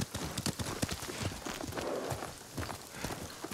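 Horse hooves clip-clop in a steady, moderately quick rhythm in the video game Ghost of Tsushima, close and fairly quiet, with faint game ambience behind.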